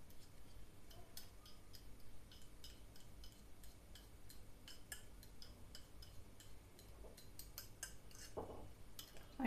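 Spoon stirring garden cress seeds into milk: quiet, steady rapid clinks and ticks of metal against a bowl over low background hiss, with a brief louder scrape near the end.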